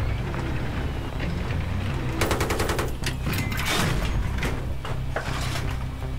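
Rapid gunfire bursts in Battlefield 3 online play, several overlapping automatic volleys and sharp cracks over a constant low rumble of battlefield ambience, loud and fairly close, with no talking.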